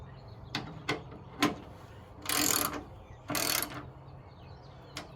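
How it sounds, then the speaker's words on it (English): A hand ratchet snugs a bolt on a custom bar bracket under a Monte Carlo car fender, with a few quick clicking strokes and two longer ratcheting runs, close and fairly quiet, with no talk. "Do our final snug on the top bolt."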